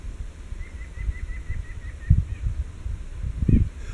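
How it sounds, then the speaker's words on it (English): A flock of birds passes overhead, wings flapping in a soft repeated flutter, with a couple of sharper nearby thumps against quiet outdoor background. "Birds flying above us."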